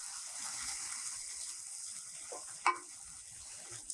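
Faux taco meat seasoned with cumin and other spices, with a couple of tablespoons of water added, sizzles steadily in a pan, with a brief stirring scrape partway through.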